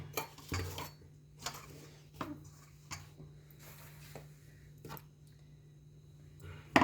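Wheat flour being mixed into leftover dal in a bowl for parathas, heard as soft scraping and scattered light clinks of a utensil against the bowl, faint and irregular with a steady low hum behind.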